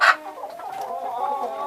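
Chickens in a barn give a short burst of clucking and murmuring, close and clear, with no talking.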